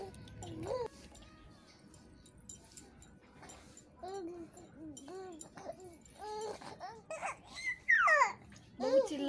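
A small baby fusses and cries in short, rising wails while being wiped clean with warm water, the cries growing louder and more piercing toward the end, with an adult voice talking close by.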